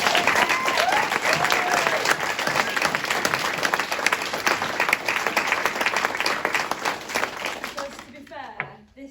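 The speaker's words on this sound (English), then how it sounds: "give a big, massive round of applause to that team" An audience applauds at a community lounges launch event with dense, loud clapping and some cheering voices, holding strong for about eight seconds before tapering off abruptly into quiet.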